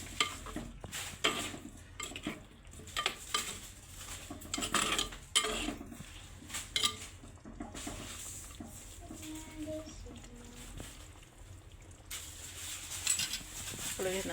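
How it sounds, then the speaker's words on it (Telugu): Chicken and softened tomatoes are stirred in a clay pot, with a spoon scraping and clinking against the pot in irregular strokes over a faint sizzle, with occasional quiet talk. "మళ్ళీ టమాటా అన్నీ, చికెన్ టమాటా అన్నీ ఒకసారి ఇలా కలపాలి."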